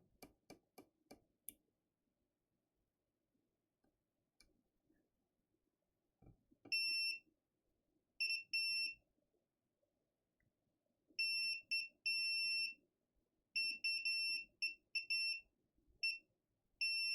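Multimeter continuity test beeps, a series of short, sharp high-pitched electronic beeps in irregular bursts, some brief and some held longer, after a few faint clicks from the probes in a quiet room.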